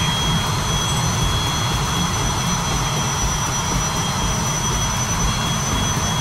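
A jet engine in the FlightGear flight simulator, flying over Kamchatka, gives a loud, steady roar that holds even and unbroken throughout, with no voices over it.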